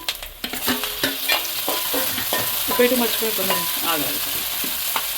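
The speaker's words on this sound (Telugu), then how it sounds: "మనకి ఆనియన్స్ చక్కగా ఫ్రై అయిపోయినాయి. ఇప్పుడు దీనిలో మనం టమాటా వేసుకుందాం." Tomatoes tipped onto fried onions in a pan, sizzling hard while a spoon stirs with repeated clinks and scrapes, close and lively.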